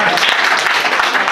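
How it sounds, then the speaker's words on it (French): An audience at a cultural evening for International Women's Day applauds the women, a dense, loud wash of clapping that holds steady throughout. "applaudissez une fois pour les femmes"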